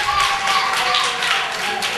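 Dense, steady crowd applause at a youth football club's end-of-season closing ceremony, filling the whole stretch with continuous clapping at even loudness.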